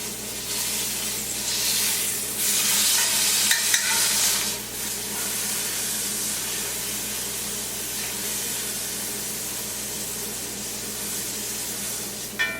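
A rack of lamb sears in a hot pan, giving off a loud, steady sizzle and crackle that runs throughout with brief hissing swells and no voices.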